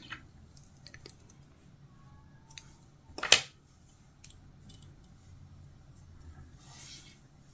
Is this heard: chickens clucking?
no